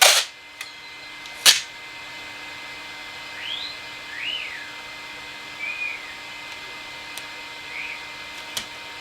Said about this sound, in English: you guys may hear my Congo African Grey parrot in the background whistling and making noises.